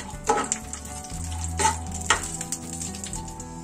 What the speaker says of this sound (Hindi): थोड़ा सा मैंने फ्राई पैन में घी डाला, अब इसमें मेवा डालूंगी। मेवे को थोड़ा सा भून लेंगे।